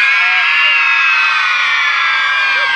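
A large crowd at a Lista 3 campaign-closing rally shouts and cheers together, a loud, dense, sustained roar of many voices with whoops and high-pitched yells throughout.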